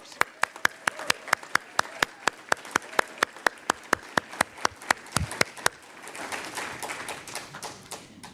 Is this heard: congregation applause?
yes